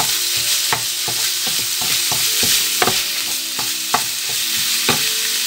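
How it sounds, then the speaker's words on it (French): Minced meat frying in a pan while a spoon breaks it up, a steady sizzle punctuated by frequent sharp scraping and tapping strokes of the spoon, close and continuous with no talking. "Cassez la viande avec le coin de la cuillère"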